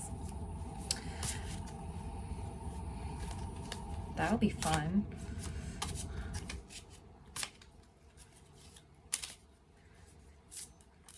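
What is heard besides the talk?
shuffling tarot cards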